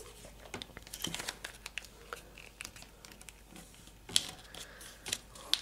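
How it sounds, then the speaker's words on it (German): Origami paper being folded in half edge to edge, heard as soft close crinkles and crisp creasing taps scattered through a quiet room, with a few sharper crackles near the end. "Und deshalb falten wir jetzt wieder dies in halb, indem wir diese Kante hier zu dieser Kante falten."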